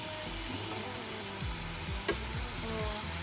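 Chicken frying in a special pan, a steady broad sizzle with occasional stirring scrapes and one sharp clack partway through, close and continuous, with no talk.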